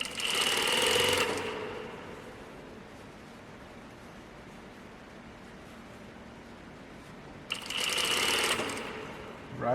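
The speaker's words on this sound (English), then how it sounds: "we sew all the way from there, all the way to the other side" A sewing machine stitches a shirt sleeve cuff for a button-up shirt. Two loud, steady bursts of whirring stitching, one at the start and one near the end, are separated by a quieter stretch of hiss. No one speaks.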